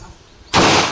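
A single loud gunshot cracks out at an annual proficiency firing range, bursting suddenly after a quiet moment and trailing off in a short, reverberant tail.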